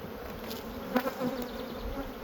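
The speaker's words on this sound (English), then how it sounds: "Whatever bees are on it will fly back home." Honeybees buzzing steadily during the spring split of a full-size colony, a soft continuous hum with a couple of brief louder passes near the middle.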